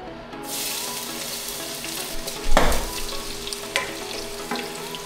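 Garlic sizzles in hot oil in a pan, a bright steady frying crackle that swells as it is stirred, with a few clattering utensil knocks.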